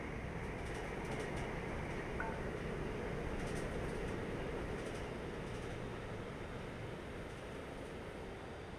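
A train runs steadily in Train Life Simulator, a continuous rumbling rail drone with faint high clatter, even and unbroken throughout.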